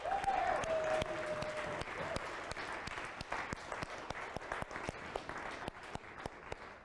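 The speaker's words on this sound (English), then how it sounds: "So round of applause for all of them" An audience at a coding bootcamp capstone showcase applauds its instructional staff with steady, moderately distant clapping that holds for several seconds and then thins out, with no talk.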